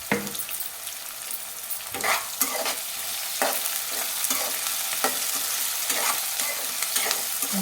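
Onions with salt sautéing in a pan for a carrot curry, a steady sizzle broken by repeated scraping stirs of the spatula, close and fairly loud throughout with no talking.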